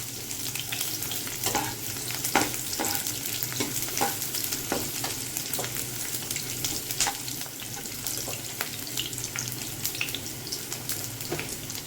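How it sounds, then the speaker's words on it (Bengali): Onions sizzle steadily in a pan, a dense continuous frying hiss up close with scattered crackles and occasional stirring scrapes, no voices over it. "এখানে পেঁয়াজগুলো দিলাম, দিয়ে আমি পেঁয়াজগুলো একটু সোনালি হবে বন্ধুরা, বেশি আমি কিন্তু ভাজবো না।"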